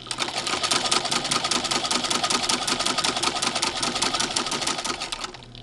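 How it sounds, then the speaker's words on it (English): Singer 15-88 electric sewing machine motor whirs steadily with a fast, even needle clatter, close and moderately loud, running several seconds before cutting off at the end. "Now the foot pedal on this motor is not all that responsive. It tends to go on and off."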